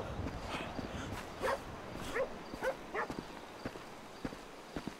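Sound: dog barking in video game Grand Theft Auto V

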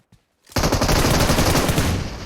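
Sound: AK rifle gunfire in PUBG Mobile video game

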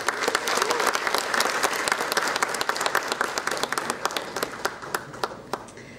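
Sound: applause for graduating students

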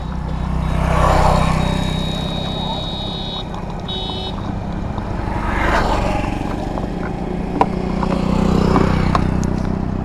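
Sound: Yamaha MT-15 V2 motorcycle running

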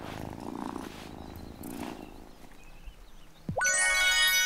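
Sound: cat purring in the video game Wylde Flowers

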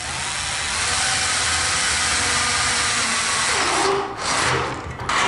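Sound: screws being driven into a metal profile

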